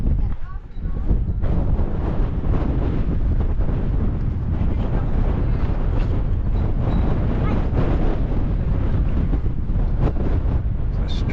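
Strong, steady wind buffets the microphone on a rooftop in Pyrgos village, Santorini, a loud continuous roar that barely lets up.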